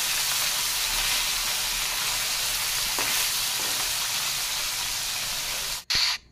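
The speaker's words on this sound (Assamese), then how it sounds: "এতিয়া মাছকেইডোখৰ ধুনীয়াকৈ এয়া উলটি উলটি কৰি সিজাই লৈছোঁ" Fish pieces frying in oil for a sour fish curry give a loud, continuous close sizzle with a faint scrape as they are turned, cut off by a sharp knock near the end; no voices.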